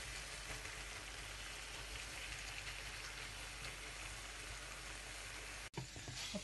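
Grated carrots simmer in milk over a low flame, giving a steady, faint bubbling hiss that goes on without a break, then cuts off sharply near the end.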